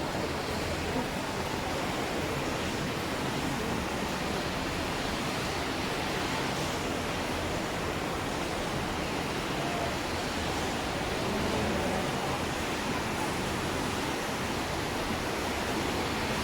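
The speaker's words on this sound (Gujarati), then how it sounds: "ઉપર ગિરનારમાંથી કેવું સરસ ચોખ્ખું પાણી આવે છે" Clear water pours down from Girnar near Bhavnath in a steady, broad rushing wash that stays even and unbroken throughout, with no voices over it.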